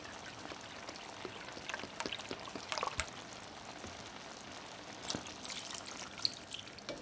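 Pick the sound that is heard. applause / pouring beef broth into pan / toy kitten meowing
pouring beef broth into pan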